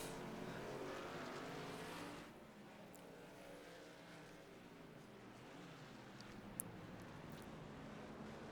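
Race cars lap Sonoma in a racing video game, a steady blended engine drone that drops slightly in level partway through and then holds constant, fairly faint and continuous.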